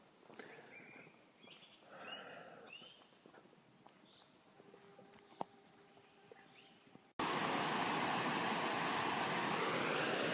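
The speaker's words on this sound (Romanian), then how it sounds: "Am ajuns și la cascada Urlătoarea." Urlătoarea waterfall near Bușteni, a steady loud broadband roar that cuts in abruptly and holds for the last few seconds, following quieter forest trail ambience with birdsong and footsteps.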